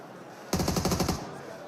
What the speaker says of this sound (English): A little bit of a pre-fire.